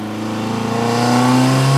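A modified four-cylinder turbo Subaru WRX engine revs close by, its pitch climbing smoothly and steadily as the throttle is blipped, growing louder toward the end.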